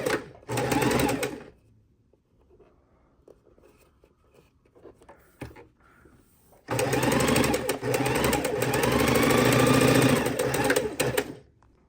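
A sewing machine stitches quilt border strips, running close and steady for about a second, pausing through a quieter stretch with faint handling noises, then running again in a long continuous burst.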